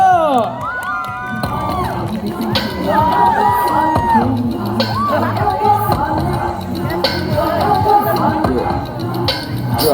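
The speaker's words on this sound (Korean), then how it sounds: "여러분 한번더 박수 박수 박수" A lively crowd at a street busking cover-dance show in Hongdae, Seoul, cheers, applauds and whoops loudly with shouts and scattered voices throughout, a continuous roar of excited people.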